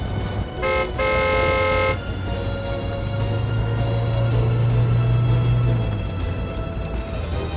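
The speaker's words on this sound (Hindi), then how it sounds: "जो कोई भी है, गाड़ी बहुत तेज चला रहा है" A car speeds along, sounding several loud, harmonic horn blasts near the start, followed by a steady, rumbling engine drone that swells in the middle.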